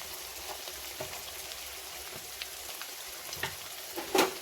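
Chicken pickle fries lightly in a pan, giving off a faint, steady sizzle with soft scattered crackles and pops. A brief louder clatter comes near the end.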